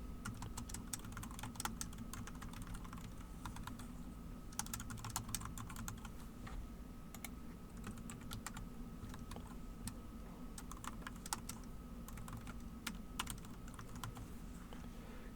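Billing information being typed on a computer keyboard, with quiet close-up key clicks arriving in quick irregular bursts and short pauses, and no voices.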